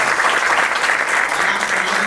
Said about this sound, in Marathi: पहिल्यांदा जोरदार टाळ्या साहिल ओरानेसाठी गाईज